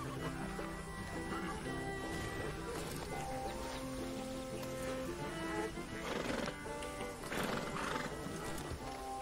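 A horse in a video game whinnies over steady clip-clopping hooves while background music plays. The sounds are faint throughout, and there is some quiet chatter.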